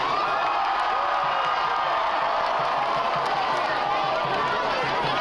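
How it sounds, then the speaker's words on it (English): Large outdoor crowd cheering and whooping at a Lancer Day community parade, a steady, loud wash of many voices with no break. "What a crowd!"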